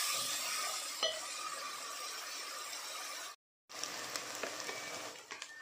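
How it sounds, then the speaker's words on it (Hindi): Ground onion paste frying in a pan for dal makhani, a steady close sizzle with occasional stirring scrapes, briefly cutting out before resuming. "प्याज को हम सुनहरा होने तक भूनेंगे।"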